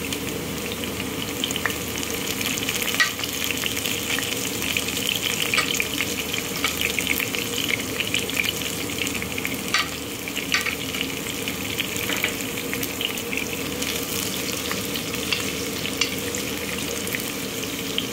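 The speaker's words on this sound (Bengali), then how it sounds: "2টা তেজপাতা দিয়ে পেঁয়াজটাকে ফ্রাই করে নিব।" Onion frying in a pan with two bay leaves, a steady close sizzle and crackle running throughout with occasional stirring scrapes.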